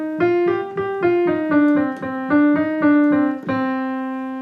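A minor-key phrase of evenly paced sustained notes in a mellow tone, stepping down and back up before ending on a long held note, clear and alone with no talking.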